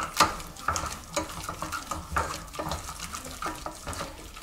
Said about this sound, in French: on bat jusqu'à ce que l'œuf soit totalement mélangé